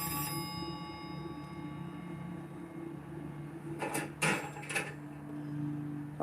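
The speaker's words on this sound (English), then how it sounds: "Oh, there goes the phone ringing again." An old-style telephone bell rings indoors, with a few short bursts of ringing partway through over a steady background hum, fairly faint overall.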